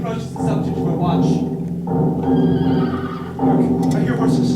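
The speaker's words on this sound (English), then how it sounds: "Hark, I hear horses." Horses neigh in a stage sound effect during a high school production of Macbeth, three loud whinnying calls in succession with faint hoofbeats, close and prominent.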